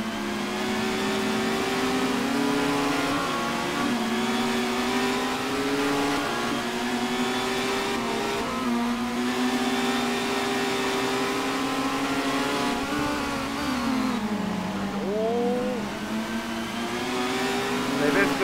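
BTCC touring cars race at Snetterton in 2014, engines revving and shifting in sustained high whines with pitch sweeps as they pass, under steady commentator talk.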